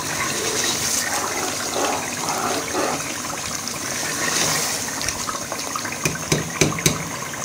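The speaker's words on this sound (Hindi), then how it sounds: "अब हम इसमें थोड़ा शोरबा के लिए पानी डालेंगे।" Water pours into a pot of chicken kofta curry to make broth, a continuous splashing and trickling, fairly faint, with a few sharp clinks near the end.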